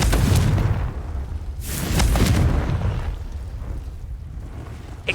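A Confringo fire blast spell goes off in a Harry Potter video game, landing as a couple of booming bursts that roll off into a fading rumble.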